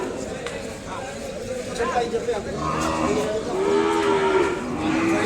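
Cattle low at the Kodad weekly cattle market among calves and bulls, a drawn-out moo rising over a busy background of voices and market bustle in the second half.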